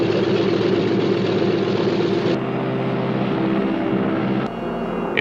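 Heavy piston engines of a B-29 bomber drone steadily and loudly, a dense propeller roar with a low rumble that shifts slightly partway through, with no voices.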